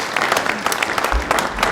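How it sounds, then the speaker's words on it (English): Short burst of audience applause at a community event, a lively patter of many hands clapping at steady strength throughout. "So just really want to clap for that"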